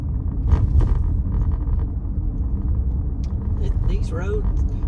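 A car drives slowly along a bumpy country road, its engine and tyres giving a steady low rumble inside the cabin while someone talks over it throughout.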